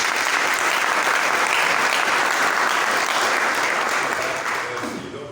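Sustained, dense applause from a Pentecostal church congregation acclaiming the Lord at a police chaplain's installation service, steady and loud throughout before tapering slightly at the end.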